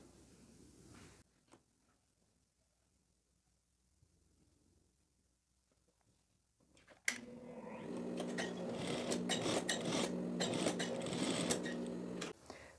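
A sewing machine stitches a lapel onto a teddy jacket at the neckline, running steadily and fairly loud for about five seconds after a quiet stretch with faint handling noises.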